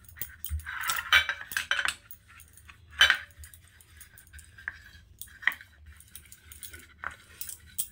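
Metal pitha moulds clink and clatter softly as they are greased with ghee, a few sharper knocks spaced irregularly over a quiet background, close by with no talk.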